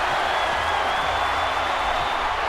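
Crowd roaring and applauding in a wrestling video game after a diving fist drop, a steady dense wash of cheering that holds at a loud level throughout.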